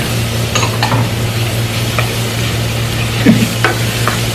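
Onion goes into a pan with tenderized kare kare meat and is stirred, producing a steady close sizzle with intermittent scraping and clinking of the spatula against the pan over a low hum.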